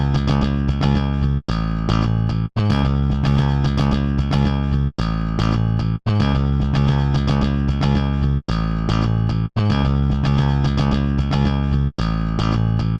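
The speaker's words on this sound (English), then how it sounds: "With the hard clipping example, the distortion is very noticeable to me across the whole track." A sustained tonal music track plays through a hard clipper, then a soft clipper, then a limiter, coming out dense and loud with a gritty, clipped edge. Brief dropouts split the passes.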